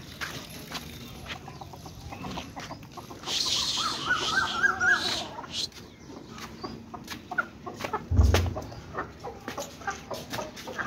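Chickens wander outside, clucking softly and intermittently at close range, with a louder burst of clucking in the middle and a brief thump of handling noise.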